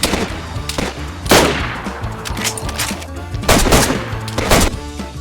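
Gunshots in the survival video game DayZ: loud, near volleys of rapid automatic fire with single cracks between bursts and ringing reverb trailing each salvo.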